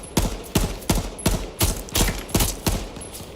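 AK rifle in H1Z1 firing in steady single shots, about nine loud, close reports at an even, quick rhythm with short echoing tails, no talk over them.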